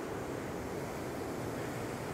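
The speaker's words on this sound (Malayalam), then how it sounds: "കടൽ കയറി കയറി വരുന്ന അവസ്ഥയാണ് ഈ കാണുന്നത്." Sea waves surge onto an eroding shoreline, a steady close roar of broadband surf with continuous wash and some wind noise, no pauses throughout.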